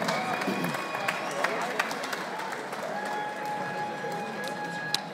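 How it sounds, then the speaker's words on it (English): A boxing crowd at a middleweight bout in Liverpool applauds the two fighters, a steady, dense wash of clapping and crowd noise held at an even level, with a few sharper claps standing out. "give both of our boxers the round of applause they deserve"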